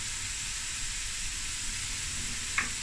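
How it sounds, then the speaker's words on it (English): Onions and meat browning in a pot for a string bean bredie give off a steady, soft sizzle and frying hiss that runs throughout, with one brief clink near the end. "So now this is just about browning the onions and then browning the meat."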